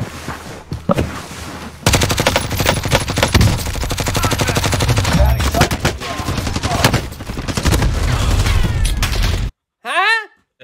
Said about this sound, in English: Yeah, they're shooting. They're fighting on top of the hangar.